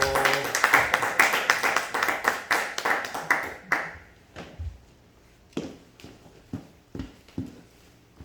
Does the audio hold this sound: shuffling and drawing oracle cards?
no